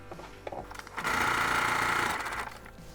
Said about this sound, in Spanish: voy a ayudar a mi máquina sosteniendo los hilos de atrás